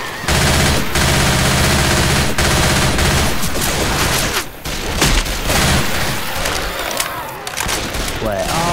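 Dense automatic gunfire aimed at zombies in the PC game Left 4 Dead 2 keeps up loud, overlapping bursts for most of nine seconds, with brief lulls and occasional heavier booms, under in-game voices.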